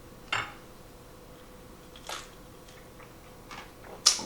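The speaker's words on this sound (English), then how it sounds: "Give it a quick little stir" A Negroni gets a quick stir over ice in a glass, giving a few faint, sparse clinks and taps spread across a quiet stretch, the last one slightly louder, with no voices.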